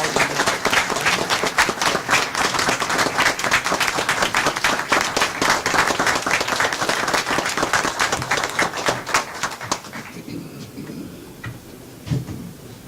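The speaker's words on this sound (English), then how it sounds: "we want to give them a great round of appreciation and applause" A city council meeting audience gives a round of applause for Vulcan, many hands clapping in a loud, sharp, continuous patter that thins and fades out near the end, leaving quiet room sound.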